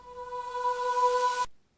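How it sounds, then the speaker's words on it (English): A reversed female vocal pad from Omnisphere swells with a reverse crash cymbal beneath it, a sustained tonal hum with airy hiss rising to an abrupt cut-off after about one and a half seconds. "so we will bring in a reverse crash sample and put it underneath"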